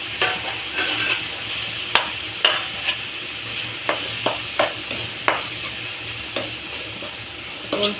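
A spoon scrapes and taps against a pan as mushroom gravy fries, a steady sizzle underneath punctuated by sharp, irregular clicks of stirring.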